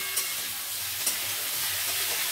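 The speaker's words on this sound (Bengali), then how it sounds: "সবজিটা দিয়ে একটু ভেজে নিতে হবে, চিমে করে ভেজে নেবেন, যাতে আমাদের সবজিগুলো সেদ্ধ হয়।" Pumpkin, potato and spinach frying gently over a low gas flame in a pan, a soft, even sizzle and hiss with a couple of faint stirring taps, close and steady, no voices.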